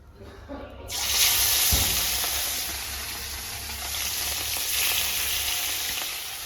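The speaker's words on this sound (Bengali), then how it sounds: "ডুবো তেলে ভাজলে তো পুরো একদম কর করে মুচমুচে হয়ে যাবে" Freshly caught pond fish, heads included, deep-fry in a pan of hot oil, giving a loud, steady, close-up sizzle that begins abruptly and keeps crackling throughout.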